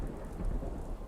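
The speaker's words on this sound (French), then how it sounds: "Le grondement, l'éclair, la verticalité, la foudre, le tonnerre" Steady rain with a low rumble of thunder running throughout a stormy night scene, dense and continuous at moderate loudness, no voices.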